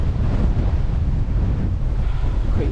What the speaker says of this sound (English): Just wish this wind would stop